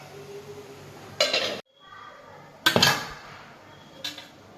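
Metal idiyappam plates lifted out of a steamer clatter in three sharp bursts of clanking and scraping, separated by quieter gaps with a low background hum.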